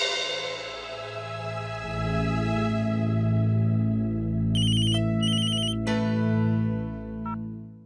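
A melodic phone ringtone plays on its own, a repeating electronic tune with a few brighter beeping notes layered in, fairly close.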